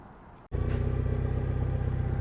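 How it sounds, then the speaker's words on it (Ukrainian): Kubota B-52 mini tractor on a dealer's lot at a mini tractor site in Vinnytsia, its small diesel engine starting up abruptly and settling into a loud, steady, close-up throb with no talk over it. "Далі бачимо, їде до нас Кубота Б-52."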